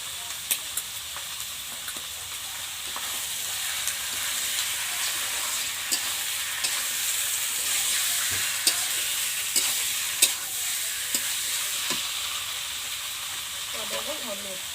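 Chicken pieces sizzle and fry steadily in a hot pan in a village kitchen, with repeated scraping and stirring clatters scattered throughout.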